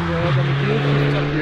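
A turbocharged Audi S1 quattro with four-wheel drive rounds a bend, its engine giving a steady droning tone that rises slightly partway through, heard close and fairly loud with a voice talking over it.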